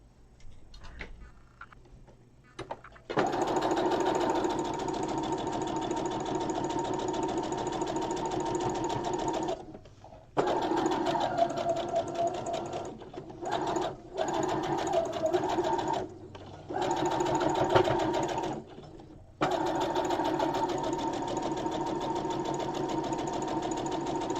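Top stitching around the neck of a doll dress bodice, a sewing machine runs in several close, loud bursts of fast mechanical whirring broken by short pauses, with no voices.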